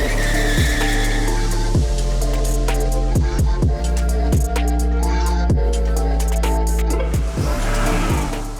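A Ford Mustang GT/CS with a 330 kW V8 is driven hard on a racetrack, its engine rising and falling through repeated revs and gear changes while the tyres squeal and skid, loud and close throughout.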